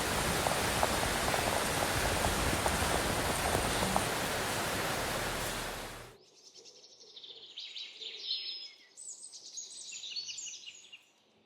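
Heavy rain pours down in a dense, steady roar during a rainstorm, then cuts off abruptly, leaving faint chirping birds and quiet surroundings.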